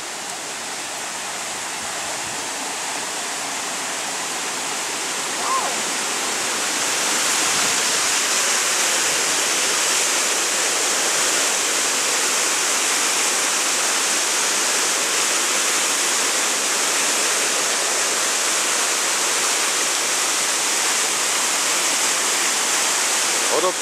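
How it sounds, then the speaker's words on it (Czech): Roaring waterfalls thunder nearby as a loud, dense, unbroken rush of white water that fills the scene for its whole length, with faint voices buried under the roar. "Vodopády, jaký si uměli nadělaný. Hučil."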